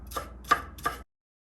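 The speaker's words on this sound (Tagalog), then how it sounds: "hiwain natin tong sili na pa-square din siya" A knife chops chili peppers into small squares on a board, three crisp, evenly spaced cuts close up, followed by silence.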